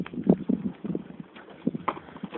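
Horse hooves clip-clop in an uneven walking rhythm, close and fairly loud, on an off-grid rural property near a shed, with no talk over the steps.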